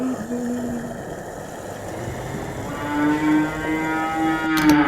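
Cartoon cow at a petrol station giving drawn-out moos over a steady background hum, followed by a higher wavering moo that rises near the end, fairly loud and close.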